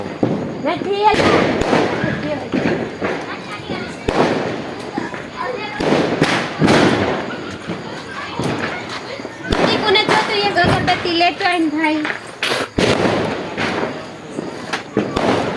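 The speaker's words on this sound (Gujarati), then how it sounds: "હવે બોમ ફોડી ફોડી બધા થાકી ગયા છે" Diwali firecrackers and fireworks burst repeatedly at a festive night celebration, sharp bangs and crackling pops scattered through the scene, with children and people talking and calling out throughout.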